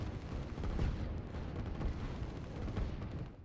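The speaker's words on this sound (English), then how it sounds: "It is a lot of orange artillery at this point," Heavy artillery fire in the strategy video game Line War, a dense continuous rumble of booming blasts and explosions rolling over one another at steady loudness with no talking.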